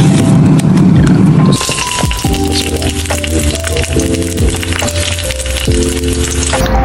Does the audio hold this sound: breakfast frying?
yes